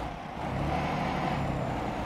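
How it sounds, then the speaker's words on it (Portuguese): A DAF XD truck in a driving game backs onto a car-transport trailer, its engine rumbling steadily and loud throughout, with no talking. "engatamos o reboque no caminhão"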